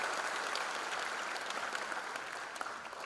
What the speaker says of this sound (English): Give a big round of applause to him.